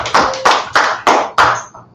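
A group claps hands in a lesson, about five sharp and loud claps in a steady rhythm close to the mic, with no talking.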